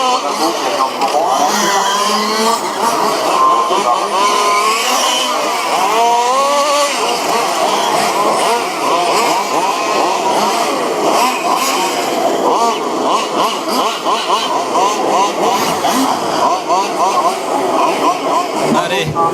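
High-pitched engines of 1/5 scale RC Formula 1 race cars at a French championship final on a track rise and fall in a constant, overlapping buzzing drone. The engines are loud and close, with a voice mixed in.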